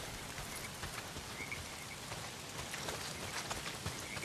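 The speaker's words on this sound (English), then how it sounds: "Well, not if it's pissing down rain." Heavy rain pours down in the video game Days Gone, a dense, even hiss of drops pattering on surfaces, steady throughout with no voices.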